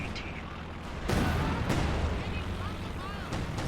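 Artillery barrage in Company of Heroes 2, with heavy booming shell impacts arriving in bursts over a rumbling battlefield, mixed with game voices and effects.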